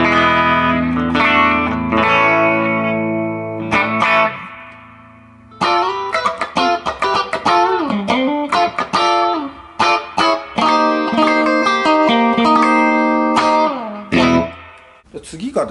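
An electric guitar played through a boutique tube amp modeled on a Princeton Reverb, with single volume, treble, bass and reverb controls, in the Kanda Guitar Base guitar shop. Chords and single-note runs ring out loud and close, with a short pause early on.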